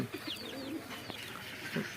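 Black Siraji fancy pigeons give soft, low coos in short bursts, close by and fairly quiet against a faint background.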